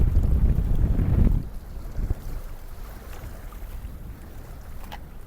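Strong wind buffets the microphone by the sea at Umluj, Saudi Arabia, a loud rumbling roar that drops after about a second into a softer steady rush with faint surf beneath.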